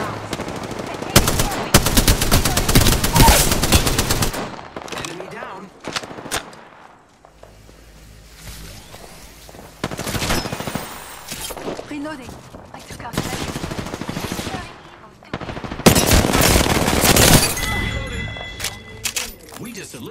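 Rapid automatic gunfire rattles in an Apex Legends firefight, coming in loud bursts that stop and restart, with shorter gaps of quieter game sounds in between.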